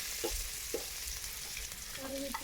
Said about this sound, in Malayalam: കടുക് പൊട്ടി വരുമ്പോൾ നെക്സ്റ്റ് ചേർക്കുന്നത് വെളുത്തുള്ളി ചേർത്തു